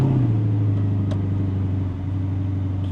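A gated manual supercar with a stainless steel exhaust idles in a steady, low, even rumble, moderately loud and close, with no revving.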